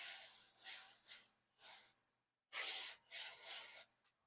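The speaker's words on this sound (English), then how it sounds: "We have the Electrosolve contact cleaner." Electrosolve contact cleaner hisses from a spray can onto a Commodore VIC-20 circuit board in a series of short, close bursts in two groups, with silence between them.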